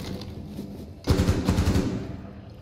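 Rapid automatic gunfire in Rainbow Six Siege bursts in after a second of quieter game ambience, a loud, close rattling stream of shots that continues to the end.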